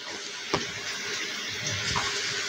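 Water poured into a vegetarian potato curry (aloo dum) mixture, a steady close splashing stream with a few small clinks, continuous and moderately loud, with no voices.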